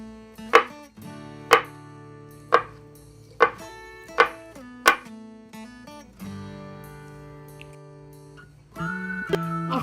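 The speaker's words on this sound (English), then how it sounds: "we need to chop these avocados in the small pieces." A knife chops avocados into small pieces on a cutting board, six sharp, evenly spaced knocks close up, then quieter handling sounds with no talk.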